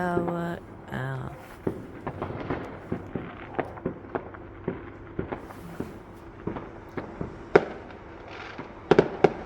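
Fireworks bursting at a Bonfire Night celebration with a big bonfire, a long run of sharp cracks and pops at irregular intervals, some near and loud, others fainter, over a steady crackling background.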